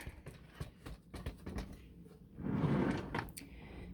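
A wooden drawer slides open with a rumbling scrape after a few light knocks and clicks, close by in a quiet room.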